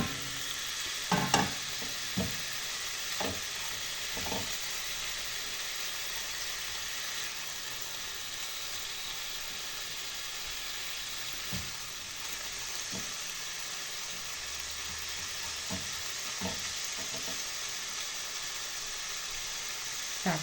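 Chicken fillet fries and stews in a pan over medium heat, giving a steady sizzle with occasional stirring scrapes and clinks from the utensil, and no talk.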